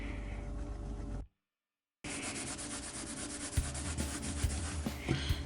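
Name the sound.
buffing scratch cover into a laminate floor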